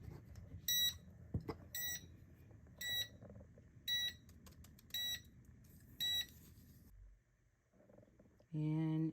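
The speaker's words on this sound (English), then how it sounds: "So when it beeps, it's ready" An 8in1 heat press sounds its ready alert: six evenly spaced high electronic beeps about a second apart, clear and close over a low hum, followed by a brief louder tone.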